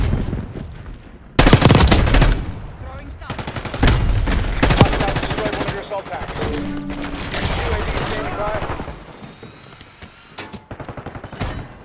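Automatic XM4 rifle fire in Black Ops 6, a classic M4 with an M203 launcher, rattling in loud bursts with sharp shots and thuds, while radio-style voices call out over the firefight.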